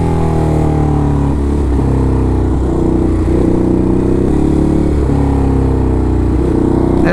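A Ducati motorcycle engine drones loud and close while riding in New York traffic, with the revs rising and dipping in repeated cycles as it works through gears.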